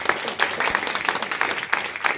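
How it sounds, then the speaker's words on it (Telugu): Crowd applause at a Catholic street prayer for St. Anthony in Gollaprolu parish, steady dense clapping lasting the whole stretch with a few sharper claps standing out, fairly loud and close. "గట్టిగా చప్పట్లు కొట్టండి"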